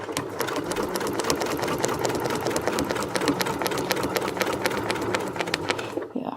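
A sewing machine stitches quickly and steadily with a template held behind the ruler foot while sewing an arrow quilt pattern. The rapid needle chatter runs close and continuous, then stops just before the end.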